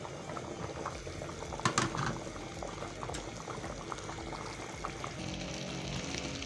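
Pilau rice boils in a pot of water, a steady close bubbling and simmering hiss that runs throughout, with one brief louder clatter near the start and no talking.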